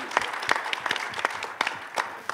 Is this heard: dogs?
no